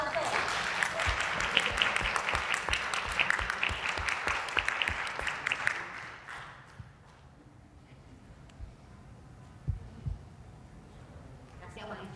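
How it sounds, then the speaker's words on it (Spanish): Audience applause for a panel at a teaching and learning innovation symposium, dense clapping for about six seconds that then fades out, followed by quieter room noise with a few knocks. "¡Aplausos!"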